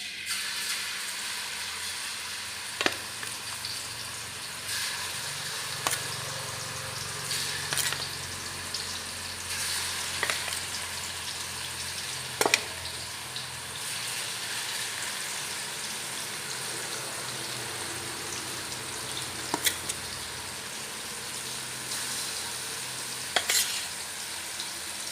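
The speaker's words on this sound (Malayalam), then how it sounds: "അപ്പോൾ നമുക്കിത് ഇട്ട് 2-3 ട്രിപ്പായിട്ടിട്ട് നമുക്ക് വറുത്ത് കോരിയെടുക്കാം" Dried prawns crackle and fry steadily in a hot pan of coconut oil, a dense continuous sizzle with occasional sharp pops and scraping stirs, no voices.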